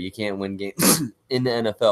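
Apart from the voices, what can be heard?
sneeze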